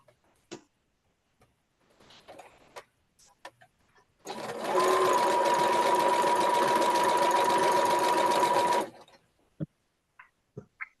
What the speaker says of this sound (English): I am sewing these 4 sets of 4, the 4 patches